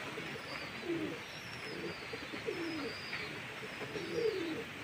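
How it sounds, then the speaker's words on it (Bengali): Pigeons sitting together in a flock coo softly in repeated low, rolling phrases roughly every second, fairly close but quiet, with faint high bird chirps and light background noise around them. "দেখুন পায়রাগুলো কত সুন্দর বসে আছে সব একসঙ্গেই।"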